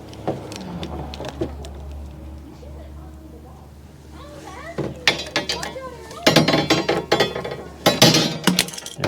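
Metal tubing for a cargo trailer rack is cut with short bursts of harsh, rasping scraping close by, following a stretch where someone talks over faint mechanical clinks.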